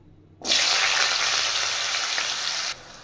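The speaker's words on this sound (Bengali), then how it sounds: "এবার আমি একটা আলু কেটে রেখেছি ছোট ছোট করে, আলুটা ফ্রাই করে নেব।" Small cut potato pieces drop into hot oil in a pan, setting off an abrupt loud sizzle that holds steadily for about two seconds and then cuts back to near quiet, with no speech.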